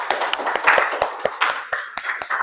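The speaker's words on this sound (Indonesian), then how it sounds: "Tepuk tangan untuk Irma." Classroom applause for a student, a short burst of quick, fairly loud hand claps from a small group, close and lively, with no talking over it.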